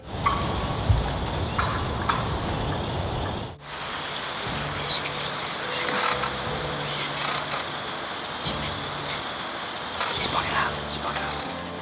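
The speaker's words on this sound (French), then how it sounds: "C'est un cri d'alarme," A wild turkey gives alarm calls, sharp putting notes heard in the woods amid rustling and faint rain-like patter, with a whispered voice present.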